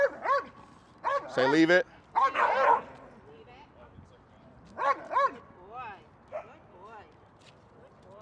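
A dog barks and yips in a few short bursts close by at a group training class, with whimpering in between, while a person talks briefly over it.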